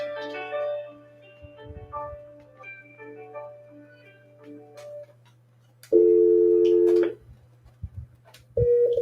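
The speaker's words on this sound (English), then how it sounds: "sorry about that, work phone going off" A work phone ringing and beeping in a quiet room, a string of electronic tones and melodic chirps followed by longer steady beeps, close and clear, with no talk.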